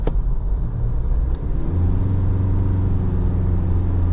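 Inside an Isuzu MU-X with the 1.9-litre diesel, the engine drone deepens and swells partway through as the SUV accelerates from about 80 km/h to overtake, over steady road rumble.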